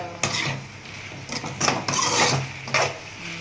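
A spoon scrapes and knocks against a pot while tomatoes are stirred into chicken curry, with a few separate rasping strokes and clinks close by and no talk.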